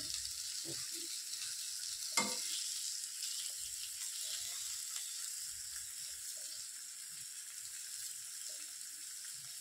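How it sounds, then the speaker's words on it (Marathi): Fish shallow frying in a little oil over a low flame for lemon, ginger and garlic fish fry: a steady, soft hiss that runs unbroken, with one brief knock and a few faint clinks. "एकदम कमी तेलामध्ये शॅलो फ्राय फक्त मंद आचेवरती करायची"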